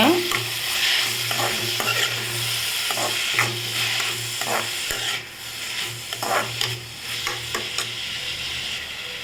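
Onions and tomatoes sautéing in a pan for an egg thokku: a close sizzle with repeated clicking, scraping stirs of a spatula against the pan and a low hum beneath, no talking.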